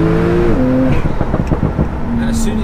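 A tuned 680 bhp Porsche 991.2 Turbo engine drones inside the car, its pitch stepping down as the throttle is lifted, with a voice speaking over it.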